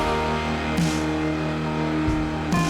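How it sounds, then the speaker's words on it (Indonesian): A new car rolls up and comes to a halt outside a restaurant, with a steady engine hum and a few brief brake or tire bursts, heard alone without voices. "ia kemudian melihat sebuah mobil baru berhenti di depan restorannya"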